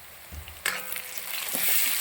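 A spoon stirs Kerala-style pork curry in a pan, with a few scraping strokes over a soft, steady sizzle, close and fairly quiet.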